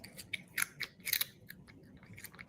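Close, crisp crunching of original barbecue potato chips in quick irregular bites, several sharp crackles clustered together, fairly quiet with no talking.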